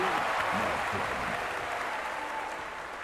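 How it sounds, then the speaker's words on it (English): A crowd cheering and clapping in a Warcraft game cinematic, a broad roar of applause that slowly fades across the stretch, with a voice faintly mixed in. "They cheer for you, my friend."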